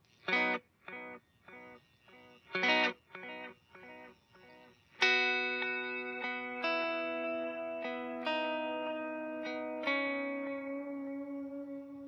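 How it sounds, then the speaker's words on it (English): Electric guitar through a tape echo delay plays rhythmic strummed chords, then ringing single notes and chords that repeat and trail off in soft, warm echoes. "So I'll play a little bit of the tape echo for you."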